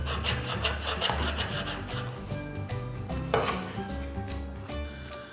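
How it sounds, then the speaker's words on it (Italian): A knife scrapes and saws through the connective tissue of veal ossobuco on a wooden board, making a few short rasping strokes and light taps over low background music. "li faccio dei tagli nel tessuto connettivo per evitare che la carne si arricci durante la rosolatura"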